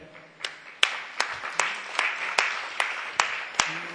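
Slow, evenly spaced claps ring out in a temple hall during a ceremony honouring devotees, about two per second and fairly crisp, with no chatter over them.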